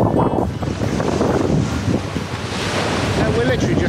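Warm sea waves washing onto a beach at a French cove on a hot day, a steady broadband surf wash with heavy wind buffeting on the microphone throughout.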